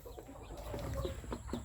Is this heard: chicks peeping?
yes